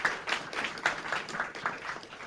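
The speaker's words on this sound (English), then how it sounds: "Let's give a big round of applause for Mr." An audience applauding a jazz musician at a panel event, with a fairly quiet, even patter of many hands clapping for a couple of seconds.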